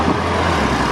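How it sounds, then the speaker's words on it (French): A Porsche Turbo sports car rolls in on a street in Monaco, its steady engine rumble and road noise filling the moment loudly and evenly, with no voices over it. "Bon voilà, un Porsche Turbo."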